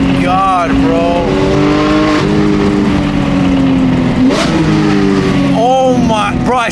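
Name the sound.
sports car driving and accelerating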